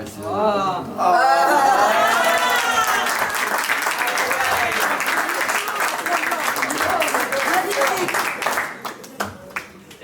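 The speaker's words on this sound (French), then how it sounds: "On l'applaudit très fort." Audience applause at an open stage show in Tours, loud dense clapping that rises after a moment of cheering voices and carries on steadily, with excited calls and chatter mixed in before it thins out toward the end.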